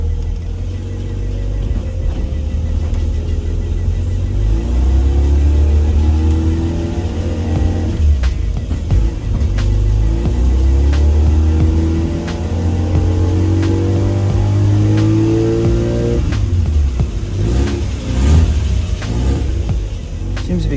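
A Mazda RX-7 FC's rotary engine revs repeatedly from the driver's seat, climbing and falling in pitch with several throttle blips, loud and close, with brief cabin noise between pulls.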